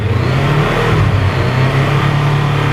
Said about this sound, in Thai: มาฟังเสียงท่อคันนี้กัน ตาติดง่ายครับรอบเดินเบานี่กับตาเร่ง